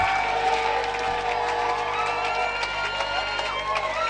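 A crowd at a church gathering in Douala, Cameroon cheers and whoops over loud, continuous music, voices mixing into a dense, sustained roar.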